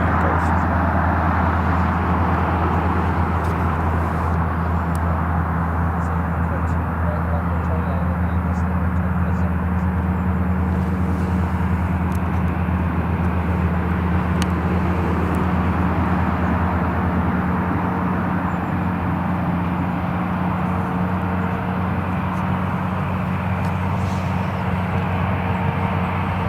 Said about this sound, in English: Jet2, rolling to the end.